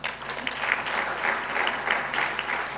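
Audience applause fills a town hall meeting in Newark, a steady crowd clapping that holds evenly for a few seconds without any voices over it.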